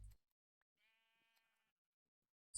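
In a Minecraft modpack game, a single faint, thin sheep bleat sounds briefly in near silence, bracketed by short clicks at the start and end.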